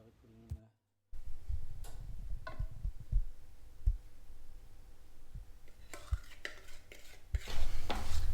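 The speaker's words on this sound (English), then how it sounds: "And into the melted butter and white chocolate, we're going to mix the eggs and the sugar." Eggs and sugar being mixed into melted butter and white chocolate, with irregular clicks and taps of a utensil against a bowl and soft stirring, close by, growing busier toward the end.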